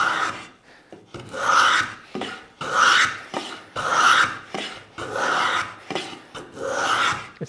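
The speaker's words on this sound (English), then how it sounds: "it's taking some nice fine shavings" Homemade wooden block plane taking fine shavings off pine held in a vise, six or seven rhythmic rasping strokes, each a loud close swish separated by short pauses, with no talking.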